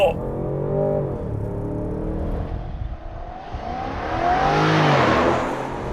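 A 2023 Range Rover Sport First Edition with a 4.4-liter twin-turbo V8 launches hard and accelerates, engine note rising steadily over six seconds, loud and close from inside, with a person talking over it.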